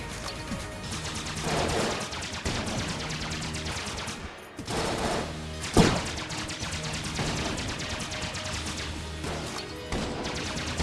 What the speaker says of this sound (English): So he just sends out a lot of bullets